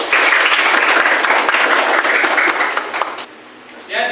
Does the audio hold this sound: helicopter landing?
no